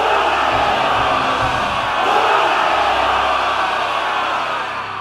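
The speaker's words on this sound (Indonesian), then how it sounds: "Sorak-sorai dan teriakan dukungan kembali menggema dengan suara meriah di seluruh penjuru" An arena crowd roars in support, a loud dense wall of cheering, shouting and whooping that stays constant from start to finish, with individual yells blended into the mass.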